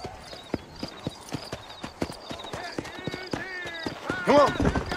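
Horse hooves clip-clop in steady rhythm while riding in the Old West video game Red Dead Redemption, with a brief neigh near the end and someone talking over it.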